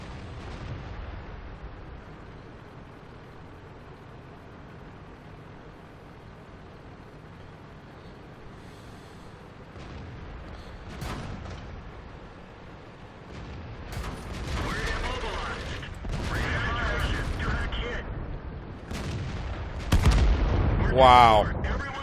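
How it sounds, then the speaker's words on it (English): Tank cannon fire and battle noise in World of Tanks while an AMX 50 100 comes under fire from several tanks, rumbling low booms and mechanical clatter building louder toward the end, with no voices. "Had 4 tanks shooting at me"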